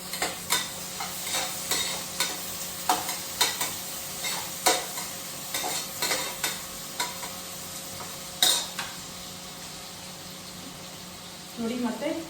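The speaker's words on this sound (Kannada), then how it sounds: "ಜೀರಿಗೆ ಹಾಕಿದ ತಕ್ಷಣ ಇದು ಈರುಳ್ಳಿ ಮತ್ತು ಮೆಣಸಿನ್ಕಾಯಿ ಹಾಕೋತಾ ಇದ್ದೀನಿ" Onions and green chillies fry with cumin in hot oil for tomato rice, a steady close sizzle broken by repeated scraping stirs of a spatula, with a louder splash of sizzle near the end.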